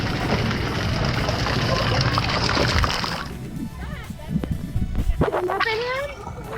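Water features splash and slosh loudly at a resort pool lined with palm trees, a dense rushing spray that drops off midway as voices and children's chatter take over.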